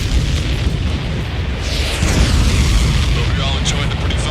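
A supply ship blowing up in the Ace Combat 7 flight game: a loud, sustained rumbling explosion roar that fills the whole stretch, with later crackling bursts, alongside continuous jet and battle noise.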